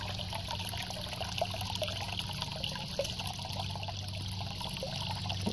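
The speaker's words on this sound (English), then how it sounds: "are you taking a bath in the murky water?" Steady trickling and sloshing of murky water as a game character wades or bathes in it, a continuous faint liquid wash with no talking.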